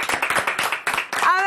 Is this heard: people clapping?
yes